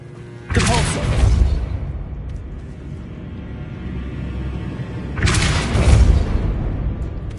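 A Depulso spell goes off in Hogwarts Legacy, producing two loud, broad booming blasts a few seconds apart, each followed by a rumbling decay, close and with no talking over them.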